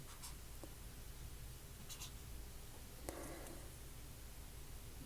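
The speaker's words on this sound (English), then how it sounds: "So let me go ahead and write that here so you can see what I'm doing." A pen writes on paper during a crochet pattern demonstration, giving faint, soft scratching strokes in short bursts against a quiet room hiss.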